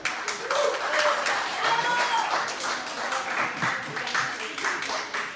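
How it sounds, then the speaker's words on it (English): Audience at a charity comedy night claps for a woman called up from the crowd, a dense, steady burst of applause lasting several seconds with some speech-like tones mixed in. "Give this lady a warm round of applause."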